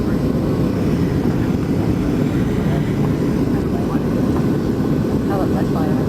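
Airliner descending and touching down on a flight to Mexico, a loud continuous cabin roar of engines and rushing air throughout, with steady rumble and no clear breaks.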